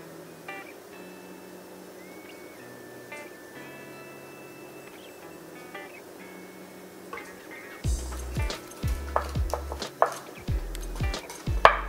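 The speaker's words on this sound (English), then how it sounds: "pour some bang bang sauce on the shrimp first" Bang bang sauce is poured over vegan shrimp in a home kitchen, giving soft, faint dripping and liquid trickles, followed later by several louder close knocks and clatters.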